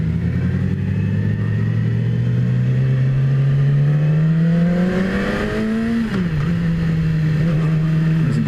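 A 2017 Yamaha R6 motorcycle engine revs up steadily with a rising whine, holds briefly, then dips and settles into a steady high drone, loud and close with no talking.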